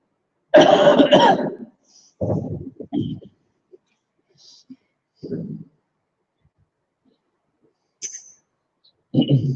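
A burst of coughing at the start, followed by a few shorter coughs and throat sounds spaced out across otherwise quiet stretches.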